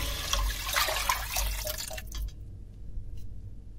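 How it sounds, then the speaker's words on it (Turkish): Water or meat broth is poured into a pot for tarhana soup, a steady splashing, trickling pour close by that runs for about two seconds and then thins to faint drips. "8 su bardağı kadar et suyu ya da normal su ilave ediyoruz"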